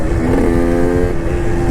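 A KTM EXC 125 two-stroke supermoto motorcycle engine revs loud and close, a sustained buzzing drone with a brief rise in pitch.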